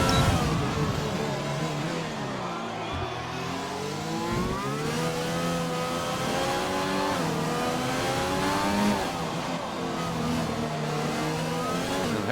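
Kevin Magnussen's race car winds up its engine on a flying lap of the Hanoi street circuit in Vietnam, running on medium compound tyres. Its loud, close engine note climbs through the gears with brief dips at the shifts and no talk.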